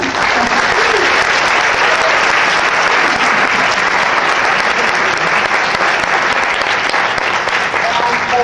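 Audience at a child poverty forum at Langara College applauding to welcome a panel, dense sustained clapping from many hands, loud and continuous from start to finish.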